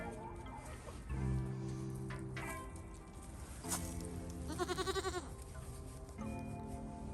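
Several goats bleat and baa nearby, overlapping calls including a quick wavering bleat, with some low murmuring in the background.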